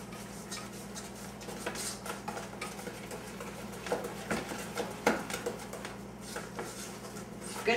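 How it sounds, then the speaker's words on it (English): Brownie batter with the dry ingredients being stirred in a bowl: steady scraping and soft clicking of a spoon against the bowl's sides, with brief sharper knocks, a low hum underneath and no talking. "stir it up till it's well mixed"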